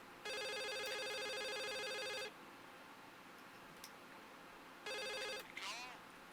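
A telephone rings in the video game The Suicide of Rachel Foster, two bursts of loud electronic trilling bells, a long ring followed by a shorter one after a pause, over a faint ambient background.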